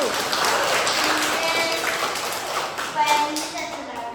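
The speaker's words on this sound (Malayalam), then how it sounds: "നല്ലൊരു ക്ലാപ്പ് കൊടുക്കേ" An audience claps in a burst of applause, a dense patter of hands at moderate loudness that swells and fades over a few seconds, with voices talking over it.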